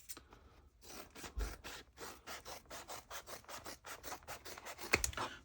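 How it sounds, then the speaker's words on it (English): Scissors trim fabric for a sewn tote bag, making a quiet, steady run of short rhythmic snips and rubs with no voices. "we'll go ahead and we'll trim these ones as well"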